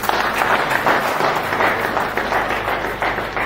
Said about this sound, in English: Let's continue clapping to our royal father.